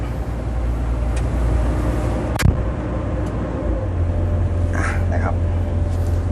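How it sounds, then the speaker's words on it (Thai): A 2013 CAT 311D excavator engine idles high and steady, a low droning rumble that thickens partway through, with a sharp click and someone talking over it. "อันนี้เราจะเร่งกันอยู่ที่ 10 เลยนะครับ"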